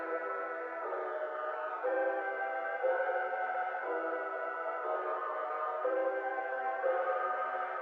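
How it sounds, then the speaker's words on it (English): A music beat with a layered boys choir pad and soloist-like sustained vocal tones behind it, chords shifting roughly every second in a steady, even, processed texture with no talking. "So let me play it right now and you might be able to hear a little choir in the background"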